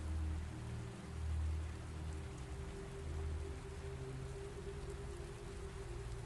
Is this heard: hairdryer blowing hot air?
no